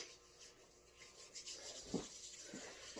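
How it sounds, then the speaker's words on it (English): Hands rubbed together during hand hygiene before a bedpan procedure, a soft, steady rasping friction lasting a few seconds, close and quiet, with no one talking over it. "I'm going to start with hand hygiene, covering all surfaces of my hands."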